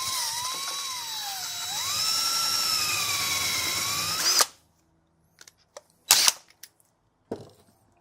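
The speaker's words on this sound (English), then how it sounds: "We're going to drill 5/16 inch holes." A high-pitched power drill whines continuously while drilling 5/16-inch holes in a 1991 Kawasaki KDX200 fork damping rod, its pitch dipping and rising as it bites in, then cuts off, followed by a few scattered clicks and clatters.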